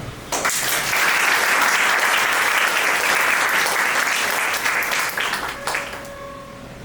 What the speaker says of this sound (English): Please, a round of applause for Alda.